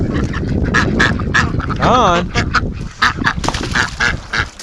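Several ducks, including Rouens, quack loudly and repeatedly close by around a garden hose, with one drawn-out honking call in the middle and a brief spoken word among them.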